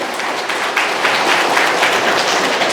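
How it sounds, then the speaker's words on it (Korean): A lecture audience applauds in a Korean hall, a dense, steady wash of many hands clapping at once, loud and continuous throughout with no voices over it. "박수 다시 한번 부탁드리겠습니다."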